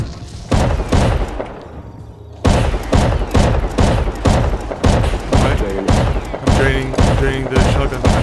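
A shotgun trap in the video game Rust fires over and over in loud, rapid blasts at a rough steady rhythm, with faint talk underneath.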